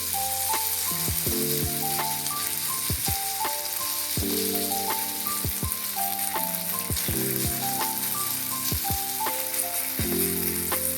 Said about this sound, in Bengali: এরপরে যে ব্যাটারটা করেছিলাম শিমের, ওইটা এর মধ্যে দিয়ে দিলাম।